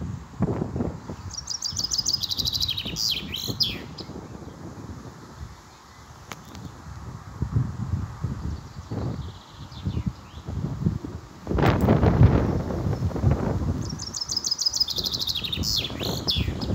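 A European robin sings during stormy weather, its short high twittering phrases coming at the start and again near the end over gusty wind and rustling leaves that rise and fall.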